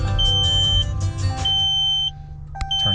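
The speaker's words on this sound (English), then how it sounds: "it's got backup sensors on it, and they beep for like, oh man, forever" Hopkins backup sensors in a car sound off with a series of long, steady electronic beeps, each lasting under a second, over a low droning rumble and faint background music.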